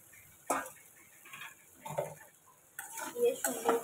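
Prawns added to fried potatoes and turmeric in a pan are stirred, giving a few separate bursts of spatula scraping and clinking against the metal over a soft background.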